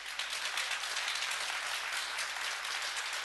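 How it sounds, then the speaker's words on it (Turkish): Steady audience applause fills a Turkish television studio, a dense wash of many hands clapping at even loudness with no voices on top. "Alkışalım."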